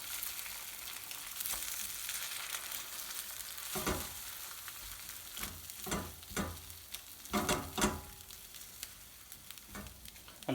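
Egg pilau rice being stirred in a frying pan, with steady sizzling and frying throughout and several sharp scraping strokes of a spoon against the pan toward the end, no talk.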